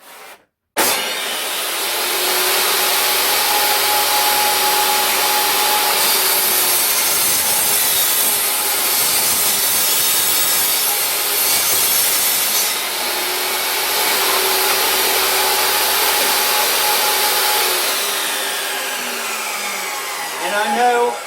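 A power tool cuts wood for an 8-inch ported subwoofer box, a loud steady whining roar running almost continuously after a brief start, close by and without talk.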